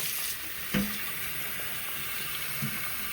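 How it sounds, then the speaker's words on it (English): Cold water runs steadily from a tap in a continuous, close hiss and splash, with a brief knock partway through and no talking. "We're going to use cold water."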